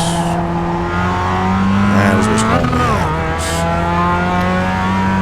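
Mazda race car in the iRacing sim on a road course, engine droning steadily with rising and falling pitch sweeps around mid-corner and bursts of tire scrub, loud and continuous with no talk.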